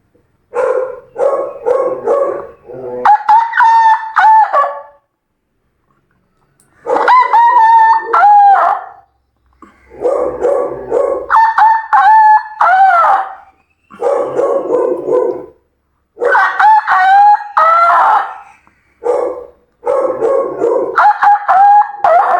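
A mimicry artist imitates a young rooster's crowing: a series of loud, close, strained crows, some broken and cracking, repeated in bursts with short silent gaps between them.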